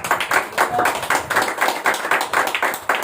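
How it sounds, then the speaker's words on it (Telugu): A church congregation applauds together in a prayer hall, a dense wash of many hands clapping loudly and steadily throughout, with faint voices mixed in. "గట్టిగా చప్పట్లు కొడదాం"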